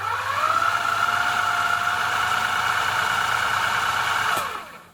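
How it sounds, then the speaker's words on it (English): A Singer 700 series sewing machine motor, freshly fitted with new mounts, spins up and runs with a steady mid-pitched electric whine and hum for several seconds, then winds down as power is released. "I'll plug the machine in here. So I'll just give it a bit of power here"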